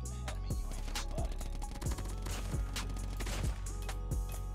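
Call of Duty Mobile gunfire from a Cordite SMG: bursts of fairly quiet rapid shots crack repeatedly, with sharp falling tones after several hits over a busy game soundtrack.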